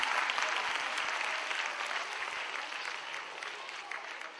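A large audience at an award celebration gives loud, sustained applause that fades slightly toward the end, with a faint crowd murmur beneath the clapping.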